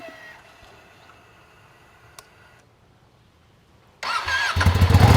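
A Ducati Panigale V2 motorcycle engine starts up after a quiet stretch with a faint tick, then catches and rises into a loud, rough idle close by, with no talk over it.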